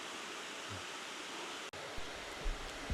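Water pouring over Eungbong waterfall in the Sibiseonnyeotang valley of Seoraksan in summer, a steady broadband rush without pause, with a momentary dropout and faint low bumps near the close.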